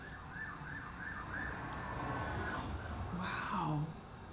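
Police car sirens wail in the distance, faint and rising and falling in repeated sweeps, with a short burst of nearby voice sounds toward the end.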